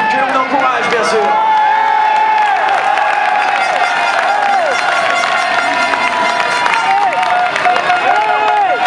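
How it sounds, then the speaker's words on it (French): A large crowd cheers and claps continuously at a Super Enduro motorcycle race in Cahors, a dense roar of voices and applause with a French commentator's voice over the top. "Cédric Tanquet que l'on applaudit, que l'on encourage bien sûr"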